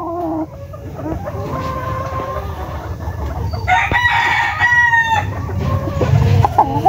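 Stag roosters in a breeding pen crow and cluck, with several overlapping calls and one loud crow near the middle, heard close with no talk.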